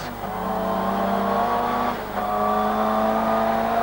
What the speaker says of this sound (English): getting 500 horsepower down onto the road in what's basically a saloon car causes quite a few interesting situations